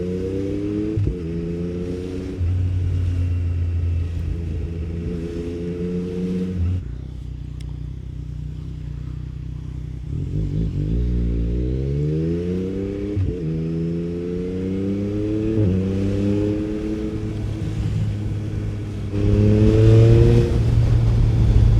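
Yamaha MT-09 SP motorcycle with a dyno tune, engine revving and accelerating through repeated rising pulls near 4,000 RPM, loud and close with short pauses between bursts and no talk.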